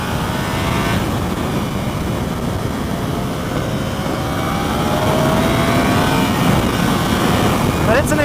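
Yamaha R1 motorcycle engine droning steadily while ridden on a public road, a loud continuous hum mixed with rushing wind noise throughout.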